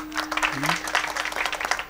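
Audience applause at a Marathi kirtan honoring the pakhawaj drummer, a steady burst of clapping lasting throughout, with a brief tonal sound over it.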